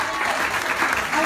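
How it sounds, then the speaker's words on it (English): A brief burst of studio audience applause at a televised talent show grand finale, thick continuous clapping heard up close with no pause. "Round of applause for Lily, guys!"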